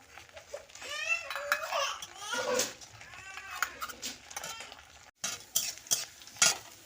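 Fish pieces in batter fry in a little oil, with a crackling sizzle and stirring scrapes running under continuous nearby voices, including a child's.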